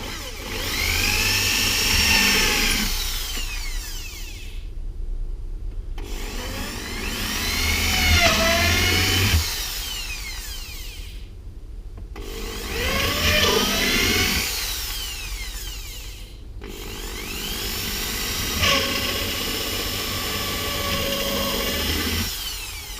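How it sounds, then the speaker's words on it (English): A power drill boring four holes into wooden pieces for a Layens beehive, four long whining bursts of motor and bit chewing through wood, each separated by a short pause, loud and close. "all we're going to do is just drill"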